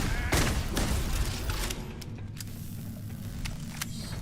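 Gunfire in the video game Starfield: a few sharp shots near the start, then a steady low game rumble with faint scattered pops, loud and close.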